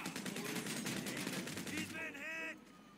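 Automatic gunfire rattles in rapid bursts in a GTA-style auto shop mission, a fast steady string of shots for about two seconds that ends in a brief ringing, with a voice talking.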